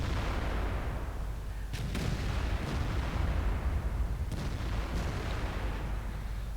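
Tank cannon fire from an IS-7 in World of Tanks, with a few sharp booming shots standing out over a dense, continuous rumble of battle noise and distant explosions.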